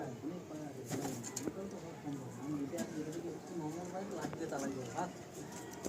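Young high-flying pigeons coo softly in a steady, low murmur close by, partly buried beneath someone talking continuously over them.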